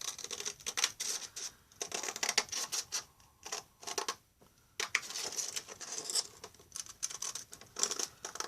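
Repeated close scraping and crunching as a utility knife slices through asphalt roofing shingles along the long edge, in irregular bursts with brief pauses, no talking.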